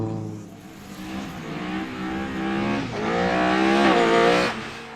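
A Toyota Celica rally car fitted with a Nissan engine and Subaru running gear races through a sprint stage, its engine loud and near as it revs hard and climbs through the gears, with rising pitch sweeps toward the end.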